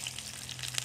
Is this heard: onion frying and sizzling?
yes